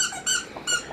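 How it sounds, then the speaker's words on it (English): A dog chews a squeaky lamb chop toy around the corner, producing two clear, high-pitched squeaks about half a second apart, each with a fainter squeal trailing after it. "pardon the squeaking, is a dog around the corner chewing on his little lamb chop"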